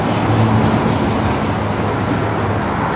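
A double-stack freight train rolls past at close range, a steady, loud rumble of wheels and cars with a low hum running through it for the whole stretch.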